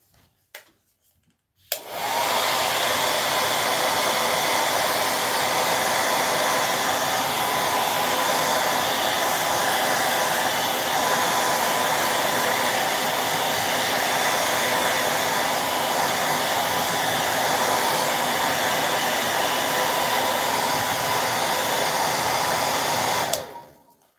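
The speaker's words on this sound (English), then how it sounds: "let's run the dryer on this one a minute." A hair dryer blows on fresh paint on an upcycled award plaque, switching on abruptly and running as a loud, steady, close whoosh for over twenty seconds before cutting off.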